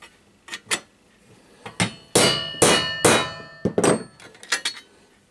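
A series of sharp metallic clangs, about a dozen hammer blows on sheet metal in irregular bursts, some ringing briefly, close and loud.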